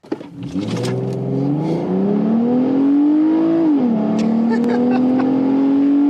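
A naturally aspirated, all-wheel-drive 2012 Ford Fusion with a 3.5 liter V6 and bolt-on mods accelerates hard. Loud, sustained engine drone climbs steadily in pitch, dips briefly at a gear change, then keeps pulling.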